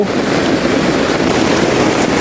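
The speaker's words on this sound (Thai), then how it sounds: "ฝนมันตกหนักเกินครับ" Heavy rain pours down on a rainforest campsite near a border, producing a dense, continuous hissing roar that fills the whole moment without a break.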